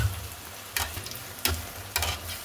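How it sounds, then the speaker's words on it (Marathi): Cabbage manchurian balls fry in hot oil with a continuous close sizzle, while three sharp scraping stirs of a spoon land at roughly even intervals. "तुम्ही बघू शकता आपण जे टाकलेले साहित्य त्यामध्ये मस्तपैकी फ्राय होत आहे।"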